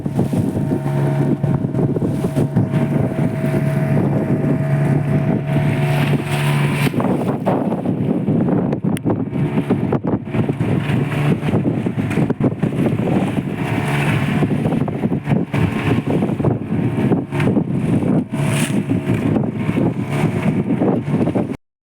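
A fishing boat out of Kombuthurai motoring steadily while trolling for barracuda, its engine a constant low drone under heavy wind buffeting and water rush, loud and unbroken throughout.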